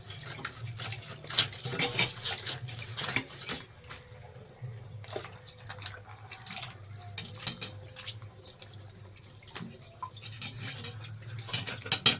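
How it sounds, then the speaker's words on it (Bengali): Vegetables being rinsed under running tap water in a home kitchen: an uneven, splashing stream with irregular bursts and spatters, fairly close, with no talk. "ওদিকে সবজিগুলো ধুয়ে নিচ্ছে"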